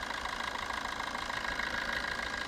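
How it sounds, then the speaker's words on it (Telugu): Maruti Swift Dzire car engine idling, 97,803 km on the odometer: a steady, even mid-pitched hum with a faint rhythmic beat, heard close and continuous with no talk. "ఇంజన్ బీటింగ్ కూడా చూసుకోండి, చాలా బాగుంది."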